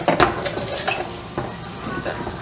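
Rice scooped from hot frying oil in a pan for Mexican rice, heard as close metal scraping and stirring over a steady sizzle, with a few sharp clinks of the utensil.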